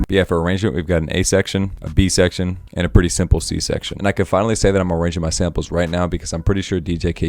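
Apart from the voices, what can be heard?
No distinct noise like a dog, phone or traffic.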